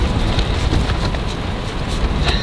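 Wind buffeting a microphone outdoors on a Scottish road trip, a steady low rumbling roar with faint gusty swells running through the whole short stretch.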